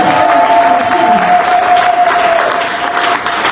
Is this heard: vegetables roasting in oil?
no